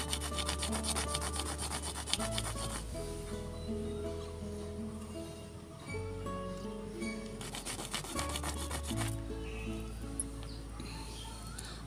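Lotus seeds rubbed by hand against a rough surface to strip the seed coat, repeated rasping strokes in bursts of a few seconds each, close and fairly loud, with a steady background tone.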